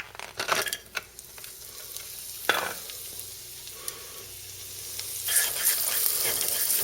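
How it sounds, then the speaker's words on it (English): Eggs stir-fried in a pan: a sizzle of hot oil runs throughout, broken by several sharp scraping clatters from a spatula and a louder burst of frying near the end, with no voices. "I'm going to make scrambled eggs."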